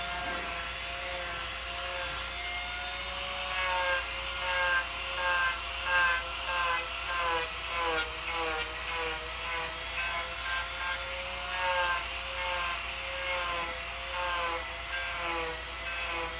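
A turbo plane carving disc shapes a wooden chair seat, giving a steady, loud mechanical whine with rapid rhythmic pulsing as the cutter bites into the wood. It runs continuously throughout with no talking.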